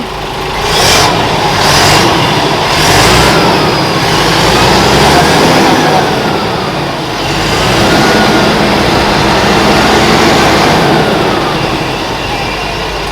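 A Hino Victor 344 heavy truck engine revs loudly and steadily, rising and falling in pitch, with a rough broadband roar throughout and no talking.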